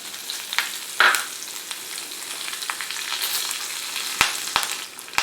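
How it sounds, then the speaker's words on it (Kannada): Curry leaves, turmeric and spices sizzle and fry in hot oil for an ivy gourd curry, a steady close crackle broken by several sharp pops and stirring clinks, with no voices. "ಇದನ್ನೆಲ್ಲ ಹಾಕಿ ಚೆನ್ನಾಗಿ ಫ್ರೈ ಮಾಡ್ಕೊಳ್ಳೋಣ"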